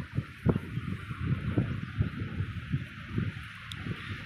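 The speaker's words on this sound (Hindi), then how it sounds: "ये देखो बहुत ठंडी ठंडी हवा चल रही है ज़बरदस्त" Cool wind blowing at a bridge on a mountain road, a steady low rumbling buffet with gusty surges throughout, close to the microphone and with no voices.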